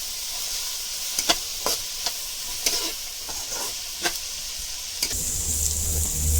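Onion and garlic stir-fried in oil in a pan, a steady sizzle broken by sharp scraping strokes of a spatula at irregular intervals, growing louder and hissier toward the end, no voices.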